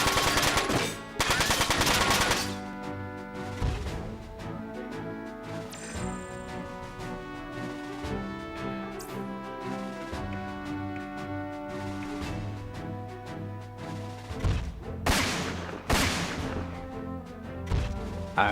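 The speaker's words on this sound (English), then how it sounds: "Rapid fire." Rapid gunfire in the video game Front Mission 4 on PS2, loud bursts at the start and again near the end with game music and rumbling effects in between.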